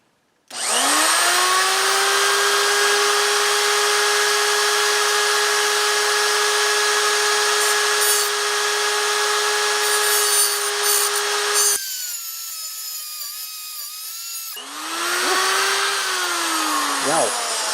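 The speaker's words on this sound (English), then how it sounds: "we're going to try to cut this one straight. And we can I can curve it a little bit with the grinder" Angle grinder cutting a steel motor mount brace for a WR250 motorcycle, a loud sustained high whine for about eleven seconds, a brief drop to quiet, then another shorter cut with rising and falling pitch; a voice is briefly heard.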